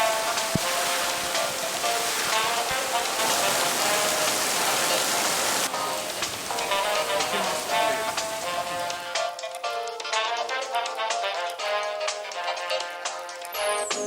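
Rain falls steadily outside a cafe in Chanthaburi, Thailand, a dense hiss of drops on surfaces that eases after several seconds into scattered, sharper drips and patters.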